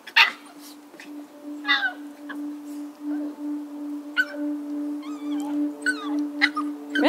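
A husky puppy about six weeks old whimpers and yips in short, high, wavering cries spread over a steady low background hum.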